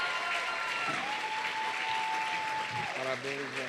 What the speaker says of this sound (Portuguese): Pode aplaudir, queridos.